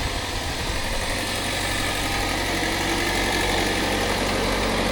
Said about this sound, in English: let you hear what that 2-liter 4-cylinder is like